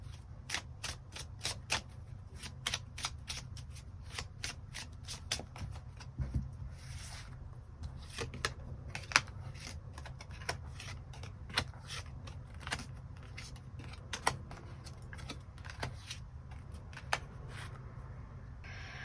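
Tarot cards being shuffled by hand over a steady low background hum, giving a continuous stream of quick, crisp riffling clicks and flicks with no voice.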